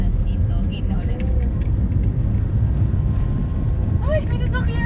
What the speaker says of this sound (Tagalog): Ay, may sasakyan naman.